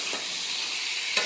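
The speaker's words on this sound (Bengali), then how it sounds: "এই যে মশলাটা ভালো করে কষিয়ে নিয়েছি, এবার তেল ছাড়ছে, দিয়ে দেবো এবার চিকেনগুলো।" Chicken pieces sizzling in hot oil and masala, a loud, dense, steady hiss close up, with a brief scrape near the end.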